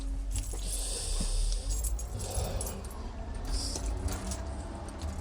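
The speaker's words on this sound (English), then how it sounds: "Let me lock the door." Keys jangle and clink continuously while a door is locked, close and fairly loud, with metallic rattles and a clunk of the lock partway through.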